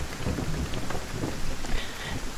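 Rain pours steadily during a thunderstorm, with low rumbling thunder rolling underneath the constant hiss of falling water, loud and close throughout with no voices.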